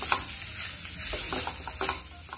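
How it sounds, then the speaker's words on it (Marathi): Boiled potato filling for vada pav being stirred and sautéed in a pan over a low flame, a soft steady sizzle broken by several scraping stirs, close and without talk. "आता आपण बटाटा घालूया आणि बारीक गॅसवर थोडस परतून घेऊया"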